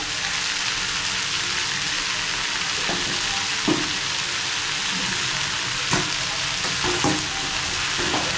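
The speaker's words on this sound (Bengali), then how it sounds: "এবার আমি নেড়ে চেড়ে ভুনে নিব মুসুরটা" Masoor lentils fry in a pan with a continuous close sizzle, punctuated every second or so by scraping stirs of a spatula, no voices present.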